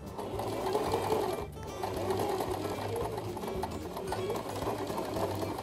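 A sewing machine runs steadily at close range, stitching a dart in a garment with a continuous rhythmic whirring and a short pause partway through.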